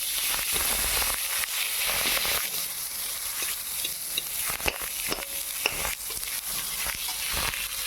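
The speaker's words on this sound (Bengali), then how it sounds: "পেঁয়াজ কুচিটা দিয়ে খুব ভালো করে নেড়ে চেড়ে নেব।" Chopped onion with black cumin seeds fries in hot oil, a dense continuous sizzle punctuated by repeated scraping strokes of a spatula stirring through the pan, close up and without speech.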